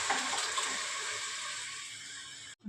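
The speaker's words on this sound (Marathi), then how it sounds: "त्याच्यामध्ये आता हे मी पाणी ओतणार आहे" Water pours steadily into a pan of curry seasoned with coriander powder and salt, a close, continuous splashing rush that cuts off abruptly at the end.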